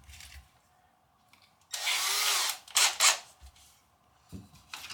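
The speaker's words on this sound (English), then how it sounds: "I have 1/4" bottle brushes, which I load into my drill." A power drill spins a 1/4-inch bottle brush while cleaning a jack on an early 1965 Fender Deluxe Reverb amp: a loud, roughly one-second scrubbing whir, then a shorter burst, with quiet pauses around them.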